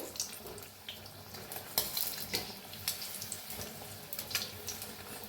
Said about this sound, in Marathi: दोन्ही साईडने छान तळून घेऊया